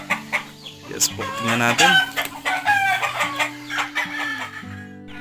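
Plymouth Rock chickens in a brooding pen, clucking and peeping close by in irregular bursts, with someone speaking briefly among the calls.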